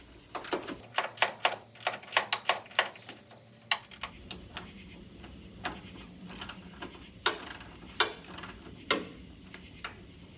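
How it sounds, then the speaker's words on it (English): A ratchet with an 11mm socket on a 1/4 inch drive clicks rapidly while removing bolts on a Ford F-250 tailgate, fast bursts of close ratcheting giving way to scattered single clicks over a low hum. "I'm going to use an 11mm socket on a 1/4 inch drive."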